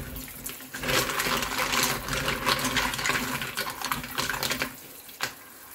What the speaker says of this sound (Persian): آب سرد هم باز میکنیم